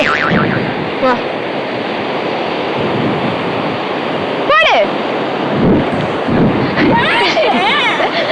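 Roaring surf from sea waves breaking at a beach, a continuous loud wash with wind buffeting the microphone and brief voices and whistle-like calls over it.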